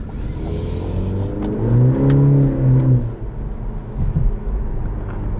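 A 2021 Cadillac CT4-V accelerating hard, its engine note rising in a strong, steady climb heard from inside the cabin, then easing off into a low rumble.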